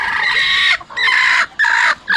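Native village hens on a poultry farm cluck loudly and close by in three drawn-out calls separated by short pauses.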